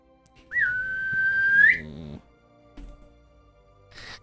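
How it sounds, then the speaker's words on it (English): A single loud, high-pitched whistle held steady for about a second before rising sharply at the end, with low voices murmuring underneath and brief noises afterward. "So at this point, you all hear a very loud, high-pitched whistle"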